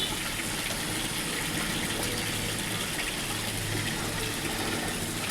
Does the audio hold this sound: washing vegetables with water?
yes